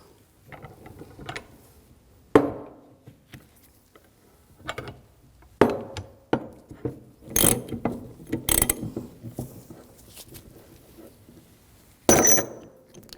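Mechanical clicks, ratcheting and sharp metallic knocks from a bearing puller being tightened to draw a wheel bearing race off the rear hub of a 2007-2013 BMW 328i, coming in irregular bursts with quiet gaps between.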